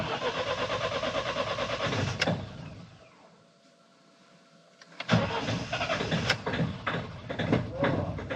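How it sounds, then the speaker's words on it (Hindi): A Mahindra Thar BS6 cranks and churns loudly for a few seconds, falls to near silence when it fails to catch, then bursts back into a loud, rough engine roar close by. "Oh my God, Thar BS6 couldn't make it in one crank."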